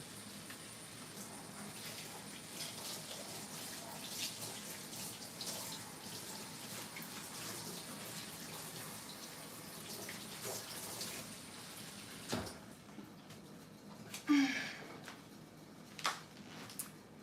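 Tap water runs steadily in a home kitchen during cooking, a continuous hiss that stops abruptly near the end, followed by a few brief clatters and splashes.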